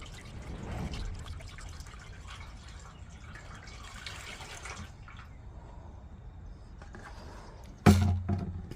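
Liquid glugs and trickles steadily into a 1972 Toyota Corolla TE28 wagon, a soft continuous pour that ends in a sharp, louder splash or clunk near the end.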